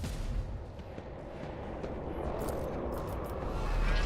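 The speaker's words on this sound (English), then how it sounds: "Fire. Keep firing." Heavy gunfire and explosions from the turn-based game Warhammer 40,000: Rogue Trader, a dense continuous rumble of blasts with sharp cracks near the end, loud and without a break.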